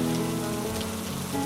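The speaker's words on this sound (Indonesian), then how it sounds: "Sore itu hujan turun dengan lebat." Heavy rain pours steadily onto a surface as a sound effect, a dense, even hiss of drops with no pauses and no voices.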